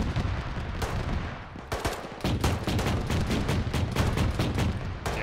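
Rapid automatic gunfire with tracer rounds toward a tree line, loud and close, in dense bursts of sharp cracks with a brief pause before continuing steadily.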